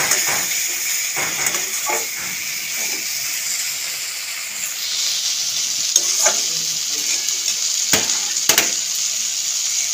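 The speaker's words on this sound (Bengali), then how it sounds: "চিনি দিয়ে দেবো। নাড়িয়ে নেব।" Eggplant and potato curry fried in a pan with sugar added, a steady close sizzle broken by repeated scraping stirs of the spatula, with a few sharper clanks near the end.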